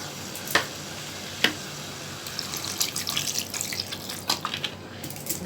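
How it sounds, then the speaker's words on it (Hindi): A cup of water is poured into a pan of aubergine and potato curry made with leftover roti pieces, giving a soft watery splash with a couple of sharp clinks near the start, with no talking. "इसमें मैं 1 कप पानी ऐड कर दूंगी।"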